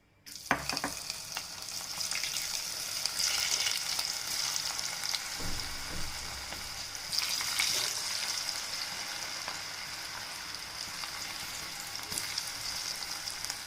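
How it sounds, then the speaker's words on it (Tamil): Cauliflower florets fry in hot oil in a pan with a loud, steady, close sizzle and occasional stirring scrapes and pops, continuous throughout with no talking. "இப்போ நம்ம காலிஃப்ளவரை எண்ணெயில் போட்டுருவோம்"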